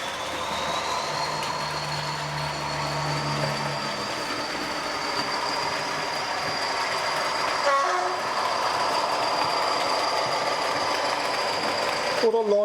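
Model Class 40 40142 and Class 47 47814 locomotives pull passenger coaches, making a steady motor hum with light rail clatter that runs on without a break.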